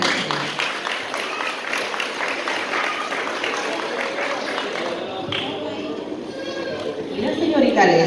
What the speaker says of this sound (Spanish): Necesito un aplauso para mi amiga.